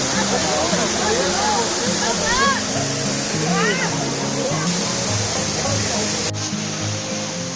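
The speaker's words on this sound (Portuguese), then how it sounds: "Famosa Cachoeira da Usina." Waterfall at Cachoeira da Usina roaring as a steady, close, broadband rush of falling water that fills the whole stretch, with faint bird calls above it.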